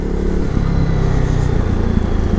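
A KTM Duke 390 single-cylinder motorcycle on a ride, its engine a loud, steady, close-up drone with wind noise and a slight shift in pitch partway through.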